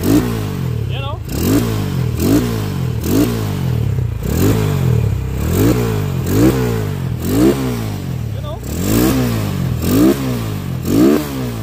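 Rusi Sigma 250 motorcycle fitted with a 30mm carburetor revved repeatedly, close and loud, in a steady series of sharp throttle blips rising and falling every second or so throughout.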